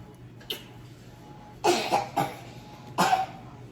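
A child coughs in three or four separate bursts, two of them close together in the middle, each sharp and fairly close against a quiet room, with no one talking.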